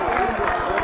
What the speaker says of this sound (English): Crowd giving the Buck defense a big hand, a well-deserved hand, because they played a lot in this first half.